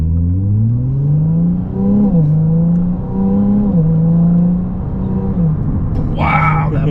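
A Ferrari 296 GTB hybrid supercar accelerates hard, its engine tone rising loud and close through gear changes, each pull climbing then dropping before a brief voice cuts in near the end.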